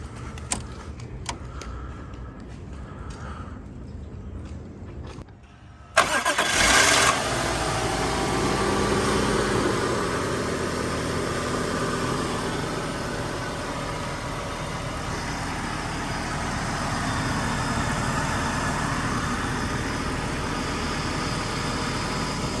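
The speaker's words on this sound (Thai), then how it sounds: "ฟังเสียงเครื่องยนต์ดูนะครับ เครื่องรอบเบาเดินเรียบนิ่งนะครับ" A BMW E39 523i with the M52 engine cranks and fires up partway through, then settles into a smooth, steady idle, heard close and loud with no talking.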